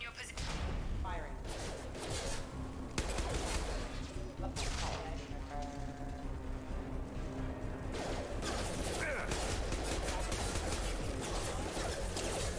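Security mechs in Mass Effect fire in repeated bursts of gunfire amid a dense, busy battle mix, with sharp shots recurring throughout and voices occasionally heard over the combat.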